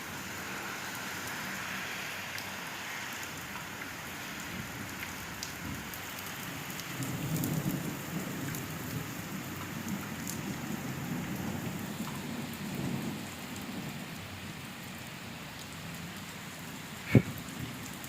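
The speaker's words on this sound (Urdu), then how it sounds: "بارش بہت تیز ہو گئی، اب اور ہو رہی ہے تیز۔" Heavy rain falls outdoors over farm fields where buffaloes stand in cold weather, a dense, steady hiss throughout with faint low rumbles swelling now and then, and no voices.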